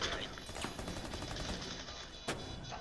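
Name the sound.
gunfire through smoke and window in Rainbow Six Siege video game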